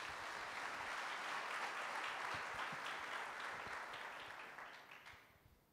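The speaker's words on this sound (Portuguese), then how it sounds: "Vamos aplaudir a palavra de Deus." A church congregation claps during a sermon, a broad, even wash of many hands that holds steady and then tapers off at the close.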